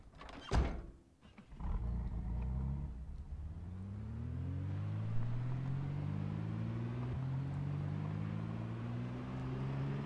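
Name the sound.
car driving in the video game Project Zomboid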